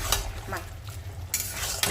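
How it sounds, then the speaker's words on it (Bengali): A spoon scrapes and stirs fried morola fish through a bitter gourd curry in a pan, close clinking strokes over a soft simmering sizzle, with a sharp burst of scraping near the end. "এবার আমি দেব এতে মোরলামা মাছ ভাজা দেব একটু মাখা মাখা করে"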